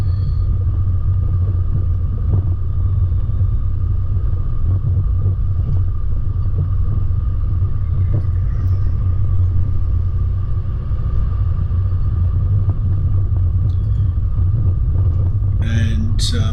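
A Mitsubishi Pajero in four-wheel drive climbs a rough ridge track, its engine a steady, loud low rumble throughout, with a voice talking over it.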